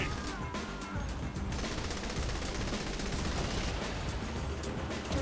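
Unbroken automatic gunfire from an enemy's weapon in the video game Saints Row the Third, a loud, dense, relentless stream of shots without pause.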